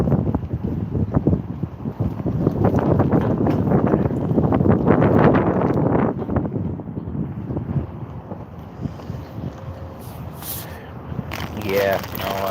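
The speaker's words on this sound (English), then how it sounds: "Oh, that wind is nuts." Strong wind buffeting a microphone out on a boat on open water, a continuous loud roaring rumble with gusty swells that ease slightly toward the end, with people talking at times underneath.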